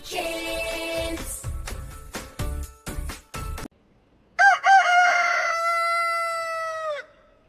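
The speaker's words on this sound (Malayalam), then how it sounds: "കൊക്കരക്കോ കൂവി നടക്കും പൂവൻ കോഴി" A rooster crows twice over a children's rhyme backing, long drawn-out calls with rising and falling harmonics, close and loud, separated by a few rhythmic musical beats.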